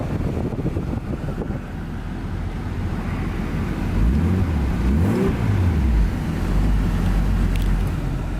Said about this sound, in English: I can start driving this car again.